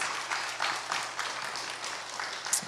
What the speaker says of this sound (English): let's invite up our pastor, Pastor Naokimi, with a warm round of applause